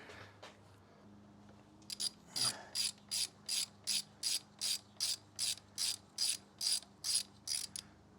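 A ratchet clicks in about fifteen steady bursts while breaking free a tight Allen screw on the front wheel of a 2004 Honda CRF250X, close and distinct, with faint scraping before the ratcheting starts.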